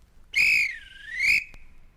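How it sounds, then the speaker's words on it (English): A train guard's shrill whistle blows in two long swells, its pitch sliding down then back up before cutting off abruptly. "he let him blow his lovely whistle"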